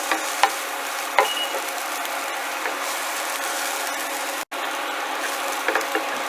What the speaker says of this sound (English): I just want to stir these up until they start to get soft